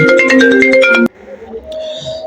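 A phone plays a custom name ringtone: a loud, bright melodic run of repeated electronic tones that stops abruptly after about a second, leaving quieter tones behind.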